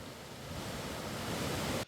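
Water overflowing the Godhda dam in Mandvi, Surat, after heavy rain: a dense, even roar of rushing water, close and constant, cutting off abruptly at the end.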